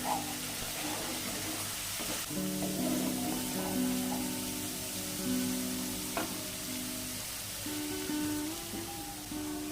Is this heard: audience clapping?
no